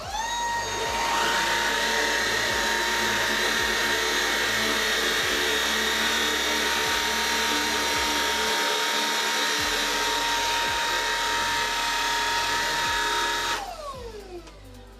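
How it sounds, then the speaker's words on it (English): Shark cordless battery vacuum running on low power over carpet strewn with coffee granules, a steady close whine with a pulsing low hum for about fourteen seconds before winding down at the end. "So first I'll use the Shark on its low power mode."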